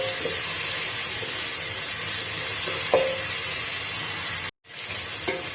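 Onions frying with whole garam masala and red chillies give off a steady, bright sizzle throughout, with a few soft stirring scrapes and one brief drop-out near the end.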